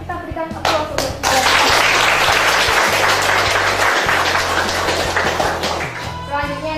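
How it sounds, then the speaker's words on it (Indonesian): A high school geography classroom of students breaking into sustained applause for a classmate, dense loud clapping that fills the room for several seconds, with a teacher's voice briefly heard at the start. "Kita berikan aplaus untuk Suta."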